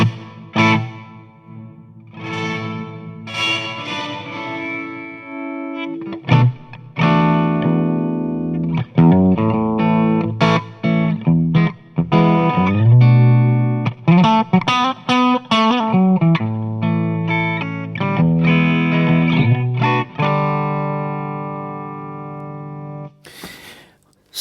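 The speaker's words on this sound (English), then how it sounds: "Then we've got the Reverb." Electric guitar played through the reverb effect of the Amp One iOS amp app, a run of plucked notes and chords with lingering tails, loud and alone.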